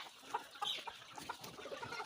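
Desi chickens on a small egg farm cluck in short, scattered calls, fairly close and moderately loud, with a steady low background underneath.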